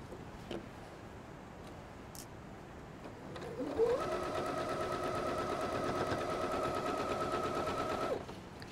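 Sewing machine stitching quilt binding: a steady, even mechanical whir starts after a few seconds of quiet, runs continuously for about four seconds, then stops abruptly, close and moderately loud.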